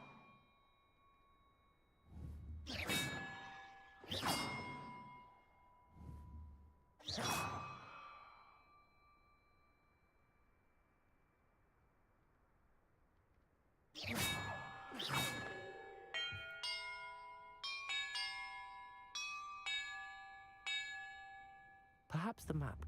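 Bells ringing in the Hogwarts Legacy video game: several clear, resonant tolls with long ringing tails, separated by a quiet gap, then a rapid cluster of overlapping chimes near the end.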